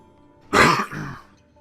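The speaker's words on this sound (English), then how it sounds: "Still got a little bit of a cough right now." A single person's harsh throat clearing followed by a short cough, close and loud, one burst lasting under a second against quiet background.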